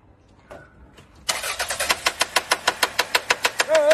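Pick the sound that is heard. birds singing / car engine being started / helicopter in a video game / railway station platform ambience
car engine being started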